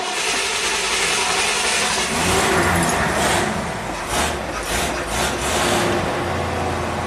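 A 1969 Ford Mustang Mach 1 engine, long left sitting, runs loud and close with a steady rough drone, swelling in a few revs.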